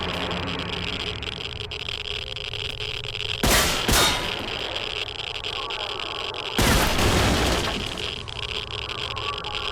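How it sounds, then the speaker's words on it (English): Two bursts of gunfire from armor-piercing rounds shot at boxes in S.T.A.L.K.E.R., loud and broadband, each lasting about half a second, set against a constant ambient drone of wind and insect-like hiss. "Shouldn't really be shooting these boxes with armor-piercing rounds."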